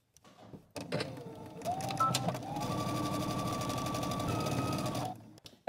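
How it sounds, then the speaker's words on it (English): Sewing machine running steadily as it stitches a hem with a normal-length stitch, a dense, even mechanical whir sustained for several seconds after a brief start-up, with no talking. "I'm starting at my hem, and I'm using a normal length stitch."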